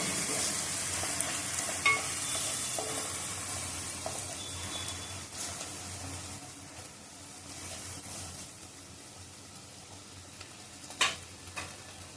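A soft, continuous sizzle of masala with chilli sautéing in a pan, with occasional scrapes and taps of a stirring spoon; quiet and close, no talking.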